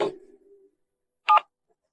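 A telephone being dialed gives one short keypad tone, near and clear, after a soft fading sound at the start and before a near-silent stretch.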